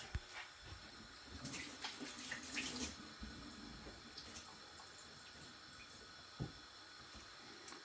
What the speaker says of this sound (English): So I'm just gonna wash my hands and get straight into it.